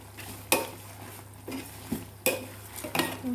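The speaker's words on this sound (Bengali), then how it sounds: "এভাবে মিডিয়াম লোতে রেখে নাড়তে হবে।" Homemade herbal hair oil with henna leaves and a bay leaf is stirred in a pan on medium heat: about five sharp spoon scrapes and clinks ring out over a soft, steady sizzle.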